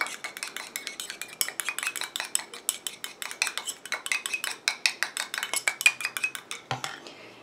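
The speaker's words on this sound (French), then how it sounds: "Je mélange." Metal spoon or spatula stirring a cosmetic lash and brow booster serum mixture in a small container, producing a steady run of rapid clinking, scraping taps close up, ending with a louder knock.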